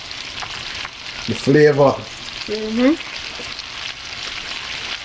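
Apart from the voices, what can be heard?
lamb chops searing in a pan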